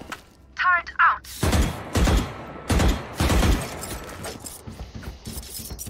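A Valorant turret fires repeated sharp cracking bursts in an uneven rhythm, loud and close, with a short voice before the shots.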